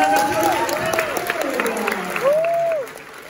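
An audience claps at a pastors' church conference, a steady patter of many hands running throughout, with a voice calling out in long rising and falling tones above it.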